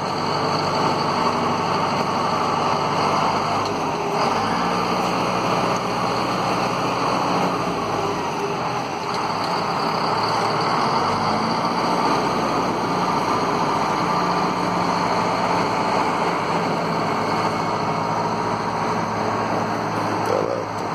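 A motor grader's heavy diesel engine idles steadily and close by while spreading material on an avenue in Praia Grande, São Paulo, Brazil, a constant low rumble with no voices.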